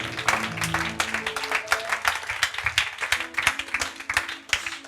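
A church congregation breaks into scattered, uneven applause, moderately loud and steady for several seconds, with a few voices and tones beneath the clapping.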